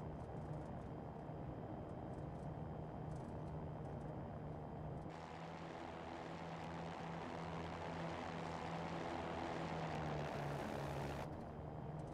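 Cirrus SR20 propeller plane taking off in the X-Plane 11 flight simulator: a steady, quiet engine drone that grows fuller and louder partway through, with no one talking.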